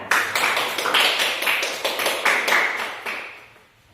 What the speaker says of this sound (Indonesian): Sekarang kita berikan aplaus, tepuk tangan.